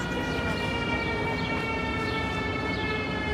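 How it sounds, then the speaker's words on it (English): An old-fashioned-sounding siren wails steadily on a busy Brooklyn-to-Manhattan city street, its sustained tones carrying over continuous traffic and street noise. "That's also an interesting siren. It sounds a little old-timey."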